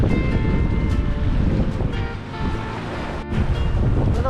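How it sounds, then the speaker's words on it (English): Steady rush of choppy waves on Lake Ontario slapping against a moving sailboat, with wind buffeting the microphone throughout. "Some pretty serious waves though."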